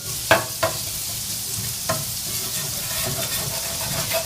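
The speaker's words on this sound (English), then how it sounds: "we're going to saute the onions and garlic for about 2 minutes until they're aromatic and translucent." Onions and garlic sizzle steadily in a pan as they saute, with a few sharp utensil taps and stirring scrapes near the start.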